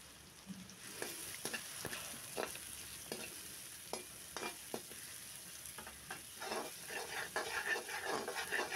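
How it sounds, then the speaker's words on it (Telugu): Onion, beans and green chillies frying in a pan for egg fried rice, a soft sizzle under repeated scraping stirs of a spatula, with the sizzle building louder toward the end and no talking. "మనం ఫ్రై చేసుకోవాలి"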